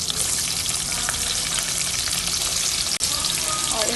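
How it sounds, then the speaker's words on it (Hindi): Onion fries in a pan with a dense, constant sizzle close up, crackling without pause and briefly broken by a single sharp knock near the end. "और इस अनियन को मुझे बिल्कुल गोल्डन नहीं करना।"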